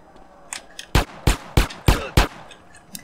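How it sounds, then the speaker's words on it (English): Five or six sharp gunshots ring out one after another at an even pace in GTA San Andreas, loud and close, with faint game ambience between them. "Why is he just shooting that random guy?"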